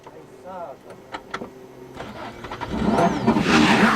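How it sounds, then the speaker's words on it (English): Damaged Subaru rally car in a 2009 WRC event, back on its wheels after a roll, its engine rising and revving louder toward the end, with voices talking over the first part. "Back on 4 wheels, Marcus is attempting to continue, but the Subaru's picked up a fair amount of damage"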